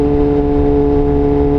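A motorcycle engine runs steadily with a constant droning hum, loud and close, with no voices.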